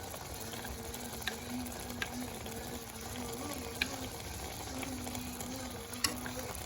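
Meat pie filling simmers in a pot after coconut oil is added, giving a soft, steady bubbling sizzle. A spoon knocks against the pot a few times as it is stirred.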